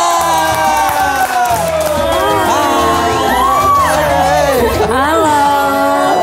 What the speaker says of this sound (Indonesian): langsung saja kita kasih tepuk tangan yang meriah